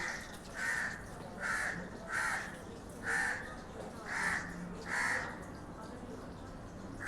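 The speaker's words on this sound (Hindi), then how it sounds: "कौवा बोल रहा है ना, तो उसको लग रहा है बंदर आ गया।" A crow caws repeatedly at a nearby distance, six evenly spaced harsh calls over a soft background hum.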